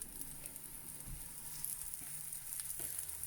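Cheese and chilli potato cakes fry in a frying pan, a faint, steady sizzle with soft crackles, heard quietly and without talk.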